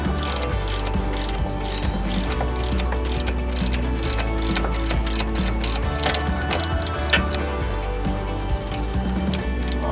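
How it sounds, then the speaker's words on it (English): Ratchet wrench tightening the bolts on a 2001 Ford Ranger V6 front wheel hub during a bearing replacement, a loud, close, continuous run of rapid clicking strokes with no talk. "we're in the process of just tightening the bolts back"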